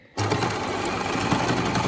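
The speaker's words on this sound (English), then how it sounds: "So I'm just running a row of stitching along the neck edge on the overlocking towards the back to hold in place" An overlocker runs a steady, close mechanical whir as it stitches along the bound V-neck edge of a garment, starting abruptly after a brief quiet moment and holding an even drone throughout.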